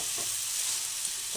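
Cabbage and winter vegetables frying in a pan give a constant, fairly loud hissing sizzle, with a couple of soft stirring scrapes through it.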